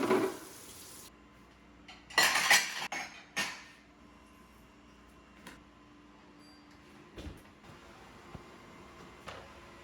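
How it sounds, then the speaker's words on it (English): Clean dishes are put away beside a stainless steel kitchen sink: a few sharp clatters of plates and cutlery clinking near the start, followed by quieter scattered knocks and taps. "I'm just going to put away the dishes that are already clean"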